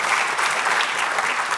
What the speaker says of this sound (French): on applaudit Raphaël Hack